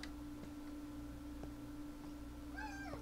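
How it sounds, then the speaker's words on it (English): A cat meows a few times indoors, faint and brief near the end, over a steady background hum with light ticking. "Cat going nuts."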